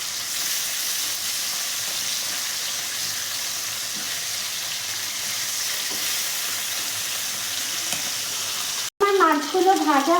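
Bata fish frying in hot oil, giving a loud, steady, continuous sizzle for several seconds before an abrupt cut to a brief clattering sound.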